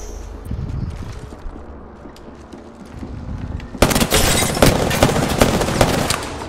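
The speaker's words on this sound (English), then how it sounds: "I'm gonna turn around and shoot them." Gunfire in Apex Legends during a duos match on Worlds Edge, a sudden loud burst of rapid automatic shots after a quieter stretch, continuing as dense, close rattling fire.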